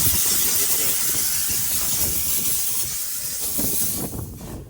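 A Vapor Clean 4 steam cleaner with automatic refill sprays a continuous loud, close hiss of steam while detailing vehicles, tapering slightly at the end.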